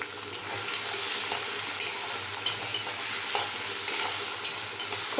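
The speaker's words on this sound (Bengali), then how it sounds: "খুব ভালোভাবে ভেজে নেব।" Capsicum, green chilli, chopped garlic and peas stir-fry in a pan, a continuous close sizzle punctuated by regular scraping strokes of a spatula every half second or so.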